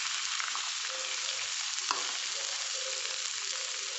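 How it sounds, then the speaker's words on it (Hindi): Ivy gourd (kunduru) dropped into hot refined oil, giving a loud, steady, close frying hiss throughout, with one brief clink partway through and no speech. "देखिए, अब हमारा रिफाइंड गर्म हो गया है, अब हम इसमें ये कुंदरू डाल देंगे।"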